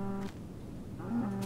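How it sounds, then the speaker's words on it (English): A cow in the Survival Island video game gives two drawn-out moos, one at the start and one near the end, close and clear with a short quiet gap between them. "Cow."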